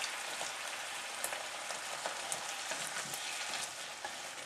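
Food stirred in a cooking pot of squash and lentils gives a continuous sizzling hiss with soft scraping clicks of a spoon at irregular moments, close and steady with no voices.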